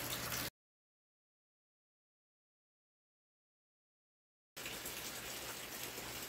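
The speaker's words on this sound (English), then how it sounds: "It's a super rainy day in Hippieland today." Steady rain falling outside on a very rainy day, a dense, even hiss of drops that breaks off into silence for several seconds and then returns at the same level.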